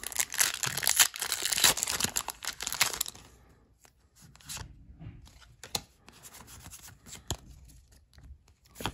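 Foil wrappers of Pokemon card booster packs crinkle and tear loudly up close for about three seconds, followed by quieter scattered rustling and handling of cards.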